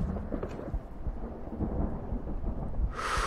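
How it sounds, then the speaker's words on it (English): Rain falls steadily in a video game while a low roll of thunder rumbles underneath, ending in a brief burst of brighter hiss near the end. "It seems to be raining outside."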